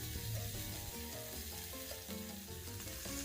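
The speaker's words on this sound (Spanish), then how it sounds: "en un sartén de hierro tipo parrilla a fuego medio alto vamos a poner a asar el segundo corte de ribeye que tenemos" A ribeye steak sears in a cast iron grill pan over medium-high heat, giving a steady, fairly quiet sizzle that runs throughout without pause.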